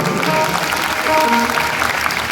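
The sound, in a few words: audience clapping at a village jagran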